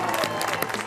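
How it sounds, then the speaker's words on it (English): Brief burst of studio audience applause at a reality TV renovation show finale, steady clapping from a crowd at moderate volume with some cheering mixed in. "Keep that applause going"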